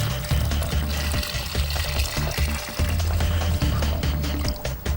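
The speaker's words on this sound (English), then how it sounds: "grab your bucket, my little fire engine red bucket here, and just pour that in the middle" Water poured from a red bucket into a dry concrete mix, a loud, steady gushing pour with some splashing that runs without a break and has no talk over it.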